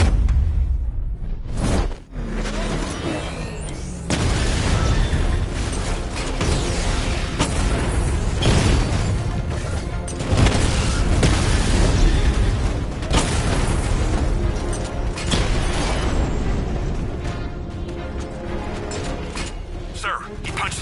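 Tank cannon fire in a Batman video game, a dense barrage of heavy booms and blasts layered over rumbling mechanical noise, loud and nearly continuous with a short lull near the start.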